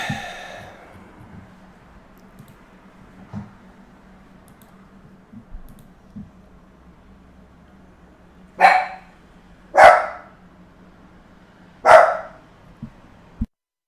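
A dog barks three times, sharp and fairly close, in a quiet room where someone is playing online poker. Before the barks there are faint clicks and low background hum.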